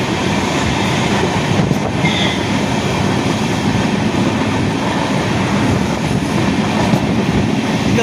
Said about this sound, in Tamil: ட்ரெயினை பாருங்கள்.